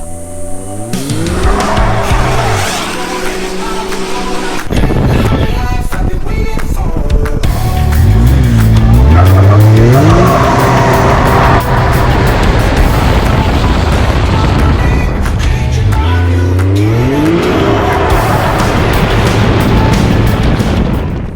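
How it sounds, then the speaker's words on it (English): A 2020 Can-Am Maverick X3 Turbo side-by-side with a flashed ECU drives hard, its engine revving up and down in repeated rising sweeps over shifting tire and dirt noise, loud and close throughout. "Now that we got the ECU flash done, let's take it for a spin and see how it performs."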